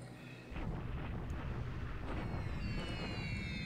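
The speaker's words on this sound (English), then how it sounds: "That was a crap bombing run." Explosions from an aerial bombing run rumble in a WWII Pacific strategy game, a dense continuous low roar with scattered blasts and faint aircraft tones, fairly quiet and with no talk.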